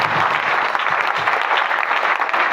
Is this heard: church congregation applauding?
yes